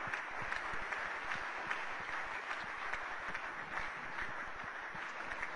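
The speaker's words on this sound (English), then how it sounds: "please give a round of applause for the ICC Cricketer of the Year" At the 2008 LG ICC Awards ceremony, an audience in a large hall gives sustained, even applause for the ICC Cricketer of the Year, a dense, steady wash of clapping with no voices over it.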